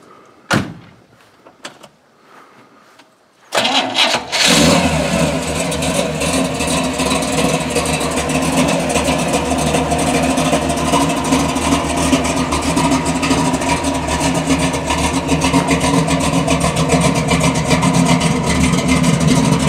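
A custom car with a Flowmaster exhaust gives a few faint clicks and knocks, then its engine fires up and settles into a loud, rumbling run that stays steady and close.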